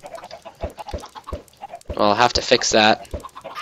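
Minecraft chickens give short clucks and squawks in a game setting, a few sparse clucks followed by a man's speech.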